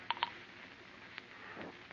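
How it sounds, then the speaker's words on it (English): Telephone keypad tones dialed as a radio drama sound effect, two quick beeps early on followed by faint clicks and line noise, fairly quiet with no talk. "Hey, Melody, get my lawyer on the phone."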